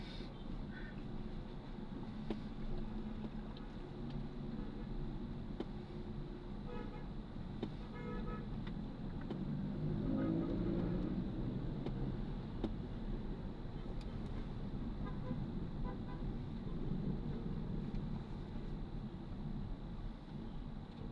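Steady road traffic noise on a street between Balingasa and Bagbag, Quezon City, a continuous low engine rumble with occasional short car horn toots, fairly close and unbroken throughout.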